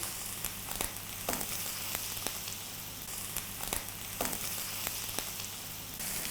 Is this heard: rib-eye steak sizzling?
yes